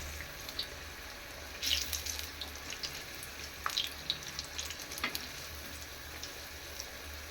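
Chilli bajji fry gently in hot oil, a faint steady sizzle broken by a few louder crackles and pops.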